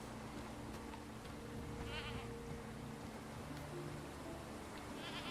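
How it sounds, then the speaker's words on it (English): A goat bleats in the Bellwright video game, two short wavering calls that sound slightly distant, set over a constant soft ambient wash of outdoor game sound, with no voices present. "It's bleating."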